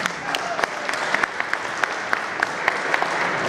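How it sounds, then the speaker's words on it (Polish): An audience at a speedway club event applauds a guest being introduced. Steady, lively clapping fills the space, with scattered sharper claps standing out. "Zbigniew i Sylwia Sadowscy, gorące brawa,"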